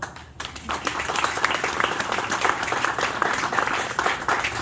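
Sustained audience applause at a book promotion event in Aruba, dense steady clapping from a crowd filling the room, rising briefly after a quiet start and holding evenly throughout.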